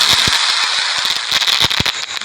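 Firecrackers burst in a fast string of sharp, loud cracks and pops over a steady hiss, with irregular spacing.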